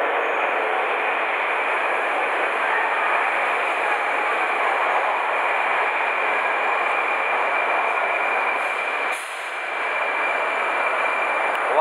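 A train on the Tashkent metro arrives at a station, a steady, loud rumbling roar that holds throughout with a brief dip near the end.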